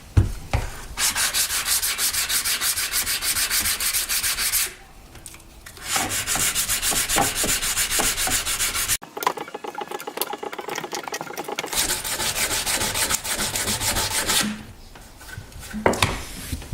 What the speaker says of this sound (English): I'm just sanding off enough of the scale that I can see bare metal